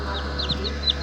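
Newly hatched chicks peep in repeated high chirps inside a homemade incubator built from a microwave, steady low hum underneath, fairly close and moderately soft.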